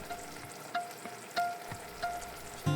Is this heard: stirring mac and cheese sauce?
yes